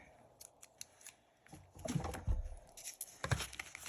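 Scissors snip through string while a knot is being tied on a paper craft. A few faint, quiet clicks come first, followed by a louder cluster of crisp cuts and handling noise, close up with no talking.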